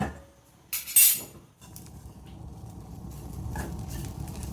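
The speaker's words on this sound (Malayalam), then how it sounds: "നമുക്ക് ഒന്ന് ഇളക്കി കൊടുക്കാം" A spoon stirs a turkey berry and tamarind curry in a cooking pot, with a sharp metallic clink and scrape early on, then a low, quiet simmering rustle and no talk.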